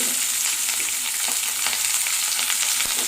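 Pieces of coconut frying in hot oil give a dense, even crackling sizzle close by, sprinkled with small pops and spatters across the whole stretch, with nobody speaking.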